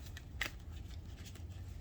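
Quick papery riffling and flicking of cards being shuffled close by, with a sharper snap near the start and a steady low hum underneath.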